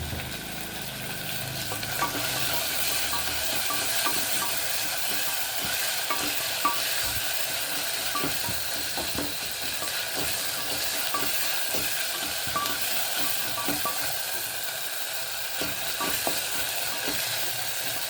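Tomato and onion stirred and sautéed in a pan for beetroot rice, a steady sizzle and frying hiss running throughout with repeated scraping stir strokes, close and continuous with no talking.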